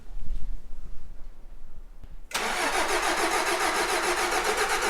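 A vehicle engine is started with a key after a long, cold winter: a brief quiet stretch, then it catches suddenly and settles into a loud, steady, close idle.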